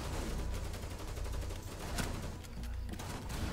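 Gunfire in the tactical shooter Rainbow Six Siege, a quick burst of several rapid shots with sharp bangs around the middle, set in a busy game soundscape.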